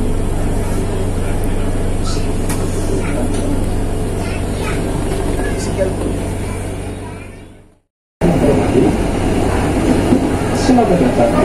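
Wijayakusuma passenger train idles at Wonokromo station, Surabaya, with a steady low engine drone and rumble inside the carriage. The sound fades to a brief silence, then returns with louder clattering interior noise.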